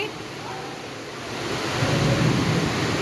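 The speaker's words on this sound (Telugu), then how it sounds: "ఫుల్గా వర్షం పడుతుంది" Heavy flood-season rain pours down in a dense, steady roar in Bhavanipuram, with a low rumble swelling partway through.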